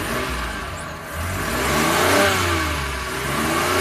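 A car engine revs up and eases off during a repair, just after its alternator belt was refitted. The steady mid-pitched drone rises and falls over a few seconds, close by and fairly loud, with no talk.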